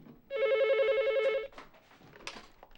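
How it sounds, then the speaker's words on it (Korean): A telephone rings once with a bright, warbling electronic trill lasting about a second, then cuts off, leaving faint background sounds. "다음 날 학교에 있는 정인에게 전화가 오는데요."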